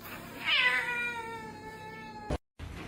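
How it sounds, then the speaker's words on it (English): A kitten lets out one long, high, drawn-out meow that wavers and slowly falls in pitch, close and clear, followed by a brief click and a moment of silence. "Forget Puss in Boots, we've got Kitten in Boot."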